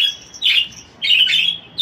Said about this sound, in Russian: Мавиш, Мавиш, не кричи! Вот так вот они себя ведут безобразно.